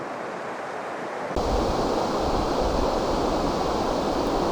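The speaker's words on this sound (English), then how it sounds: "We'd wanted to come down to where the waves were breaking on the shore here" Waves break on a beach at Kirkcaldy, a steady broad wash of surf that rises abruptly and stays loud, with some wind buffeting the microphone and no voices.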